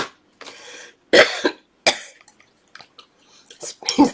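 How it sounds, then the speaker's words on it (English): A person coughs in short, separate bursts with silent gaps between them, close and fairly loud, with faint throat sounds in between. "Cough."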